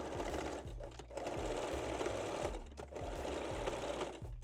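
Sewing machine straight-stitching the crotch and back center seams of mesh-back Brazilian panties, running in steady buzzing runs with short pauses and backstitch breaks between them.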